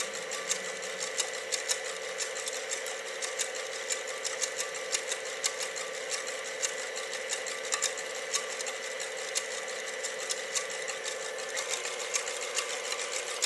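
A mixing machine whirs steadily while emulsifying oil into a mustard vinaigrette. The motor gives an even, rapid mechanical buzz with fine ticking throughout.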